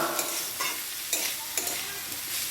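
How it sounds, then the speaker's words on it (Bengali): Mixed vegetables for fried rice fry in a pan, a soft steady sizzle broken by several scraping stirs at a regular pace, close and fairly quiet with no talking. "আপনারা সবজিগুলো একটু ঢাকা দিয়ে হালকা করে ভেজে নেবেন"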